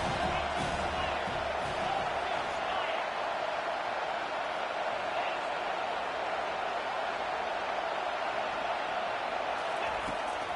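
A football stadium crowd roars in a sustained, distant-sounding wash of cheering with scattered whoops, while a commentator talks over it.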